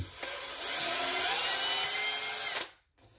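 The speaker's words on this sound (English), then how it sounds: "So I got a little larger drill bit." A high-pitched power drill with a larger bit, enlarging a hole in a kitchen soap dispenser, whines steadily for about two and a half seconds, then cuts off abruptly, leaving near silence.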